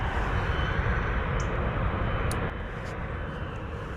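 Boeing 747 jet engines spooling at Stansted Airport, a broad steady roar that drops slightly partway through, with a few faint higher tones above it.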